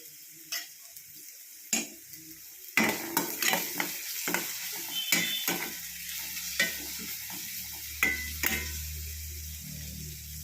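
Onions sautéing in a pan for a Kerala grape theeyal curry: a steady close sizzle broken by repeated sharp ticks and scrapes of a spoon against the pan, with a low hum creeping in toward the end.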